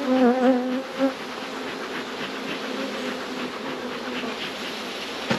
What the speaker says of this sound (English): Off this hive, we smoke these bees down